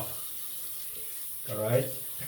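Tap water runs steadily into a sink during a rinse after a double-edge razor shave, with a brief voice rising over the flow near the end.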